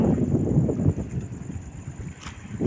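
Gusty wind beside the sea at night buffets the microphone with a low, continuous roar, rising and easing, with faint surf in the background.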